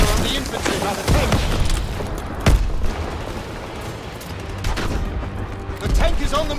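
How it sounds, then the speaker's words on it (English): Battlefield gunfire in the Call of Duty WW2 game, with tanks and infantry in combat: sharp shots and heavy booming blasts over a constant rumble, loud and dense, mixed with voices. "They fire on the infantry by the tank."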